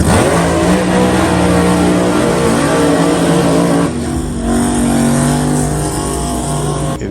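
A race car at a drag racing qualifying session, its engine holding a loud, steady high-revving drone through a hesitant burnout, with a brief dip midway before the roar resumes.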